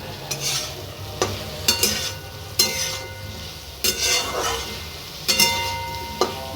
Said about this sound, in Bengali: যে কোনো রেসিপি যত বেশি কষাবে তত বেশি টেস্ট আসবে।